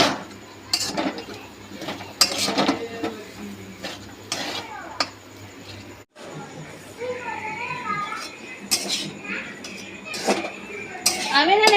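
A spoon scraping and clinking against a pan while stirring a potato and bread mixture over a low flame, with irregular metallic taps and scrapes as someone talks throughout.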